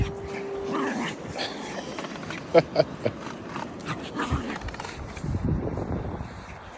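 A 15-year-old dog gives a few short, soft whimpering yips outdoors on a beach, set against steady background noise with some faint talk nearby.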